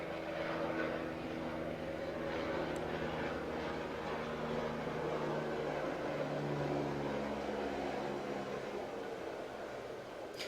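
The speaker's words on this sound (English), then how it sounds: "as I talk over this helicopter flying by" A helicopter flies past overhead, a steady loud engine and rotor drone with low tonal bands holding throughout at close range.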